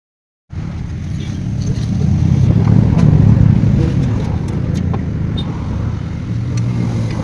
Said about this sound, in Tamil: வண்டி வேலை முடிச்சு இப்போ தான் கிளம்புறேன்